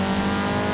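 A 2015 Audi TTS Coupe with 210 horsepower in Forza Horizon 4, its engine a steady loud droning rev with crackly texture for under a second, no talking.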